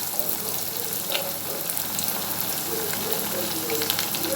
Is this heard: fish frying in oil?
yes